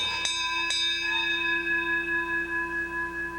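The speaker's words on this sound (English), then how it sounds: "Wait, I'll ring the bell." A hand bell rung in a stage play, two quick bright strikes followed by a long, clear ringing tone that slowly fades with a gentle pulsing shimmer.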